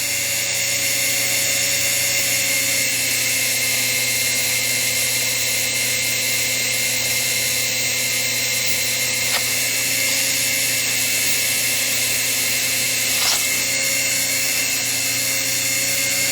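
A steady, high-pitched powered whine runs throughout, loud and close, without a break, as a pool cue tip is smoothed with 240-grit sandpaper; no voices are heard.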